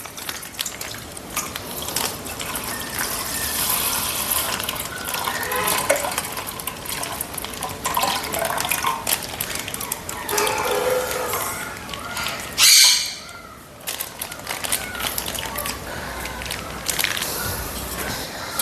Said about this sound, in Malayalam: ഇതിനകത്തേക്ക് ഒഴിക്കുകയാണ്.